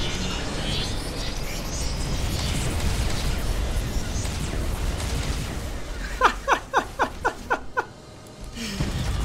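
Nova cannon explosions strike a space station in the video game Battlefleet Gothic: Armada 2: a rumbling bombardment builds, then a rapid series of about seven sharp, loud booming blasts follows in quick succession, ending with a final burst.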